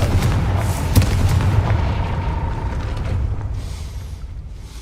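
A Confringo spell explosion from the video game Hogwarts Legacy: a loud, deep boom bursts out near the start and is followed by rumbling debris and a long fading tail, with no talking.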